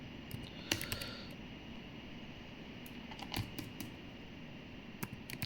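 Soft, close clicks of a computer keyboard being typed on in scattered short bursts while code is written, over a quiet background hum.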